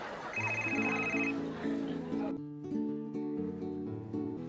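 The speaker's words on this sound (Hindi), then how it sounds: "सुभाष जी का फोन है गुरुजी।" Telephone ringing loudly with a repeating electronic ringtone melody in a Hindi comedy series scene, steady tones filling the room.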